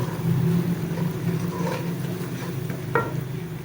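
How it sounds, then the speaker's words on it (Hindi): Spices and onions frying in a pan, a dense continuous sizzle with soft stirring movements and a brief clatter near the end, close and fairly loud. "अब मैं इसके अंदर ये सारे मसाले डाल देती हूँ। बस 2 मिनट इसको भूनूँगी अच्छे तरीके से।"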